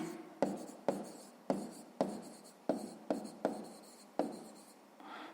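Pen or pencil writing out a sixth-grade math exercise on paper, about eight distinct scratchy strokes in an uneven rhythm, close and fairly quiet, with no voices.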